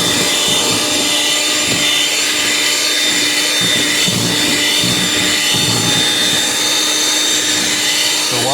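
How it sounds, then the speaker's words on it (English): An appliance grinds granulated sugar into powdered sugar, a loud, steady whirring motor roar that runs without a break from start to finish. "that still grinding together, getting that consistency the way we would like"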